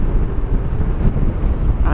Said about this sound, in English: it's very windy today and it's cold, so the wind's a bit, you know, thicker as it were